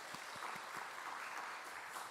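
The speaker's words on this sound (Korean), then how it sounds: "박수 한번 더 주세요." A church congregation claps at a Sunday afternoon service: a soft, steady patter of applause heard from a distance and fairly faint, with a few louder low thumps.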